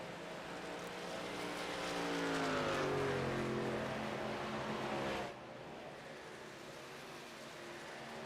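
Racing truck engine roaring loudly at Indianapolis Motor Speedway in the iRacing sim, rising in pitch as the truck passes, then dropping abruptly to a steadier, lower engine drone.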